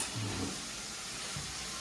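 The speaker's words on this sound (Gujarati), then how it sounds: "જો ગાઈસ આ રીતના મકાઈ વઘારવાની" Corn kernels tempering in hot oil in a pan give off a continuous low sizzle and hiss, steady and moderately close, with no one speaking.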